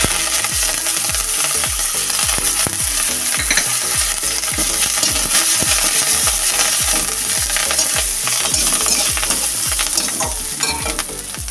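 Curry leaves crackle and sizzle loudly in hot oil in a pan, with a continuous spitting fry and regular scraping stirs repeating throughout, no one speaking.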